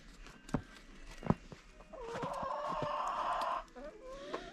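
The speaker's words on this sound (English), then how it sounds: "Little Dua just is not a snow chicken, is she?" A chicken outdoors in the snow clucks and then gives a longer drawn-out squawking call, with a few sharp knocks before it; faint and close, with no talk.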